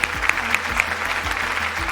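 An audience claps for a singer's performance on a televised singing reality show stage, a dense, lively burst of applause from a crowd, steady and fairly close for the whole stretch.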